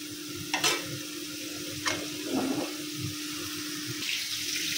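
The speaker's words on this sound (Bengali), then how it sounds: "চিংড়ি মাছটা এই যে একসাথে দিয়ে এখন মাছটা কষায় নেব।" Prawns frying with spices in a pan on a kitchen stove, a continuous sizzle with a low steady hum and a few short splashes and scrapes, no voices.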